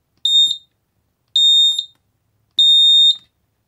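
Three loud, piercing high-pitched chirps from a Xiaomi Honeywell Zigbee smoke alarm as its button is pressed, each about half a second, evenly spaced with silence between them.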